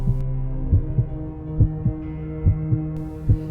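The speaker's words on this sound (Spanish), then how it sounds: "Ahora solo escuchaba el latido de un corazón que lo hipnotizaba y lo atraía." A steady, slow heartbeat thumps in regular paired beats over a low continuous hum, with no voices.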